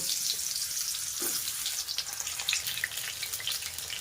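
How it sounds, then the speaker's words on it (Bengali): Pieces of pointed gourd (potol) fry in oil in a pan, giving a soft, steady crackling sizzle with small popping bursts, close but fairly quiet, with no other sounds. "এবার এই তেলের মধ্যে পটলগুলোকে ভেজে নেব।"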